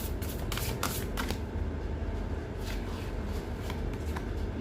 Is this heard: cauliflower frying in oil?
no